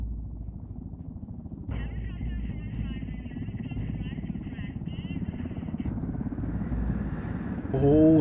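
Helicopter in the video game Ghost Recon Wildlands, a loud steady rotor drone with engine whine close by, with a voice talking over it throughout.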